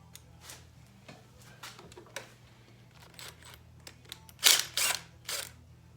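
Wrench working a nut off a stud on a 1985 Harley FXRS Evo during a clutch and transmission job, scattered light metallic clicks and ticks with a few louder clanks near the end over a low hum.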